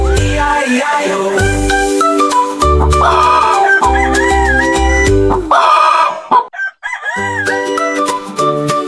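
Hens cluck within a children's farm song, repeated clucking and crowing-like calls set against a loud instrumental backing with bouncy bass notes.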